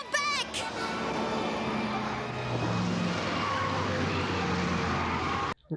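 Cartoon cars rush past in Captain Planet traffic, a continuous roar of engines and passing vehicles with a high squeal of tires near the start, loud throughout before cutting out abruptly at the end.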